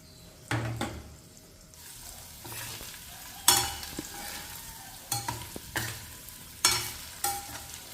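Paneer tossed and fried on low flame in a kadai pan for spicy kadai paneer: a steady oily sizzle broken by repeated scraping stir strokes and metallic knocks, close and with no voices.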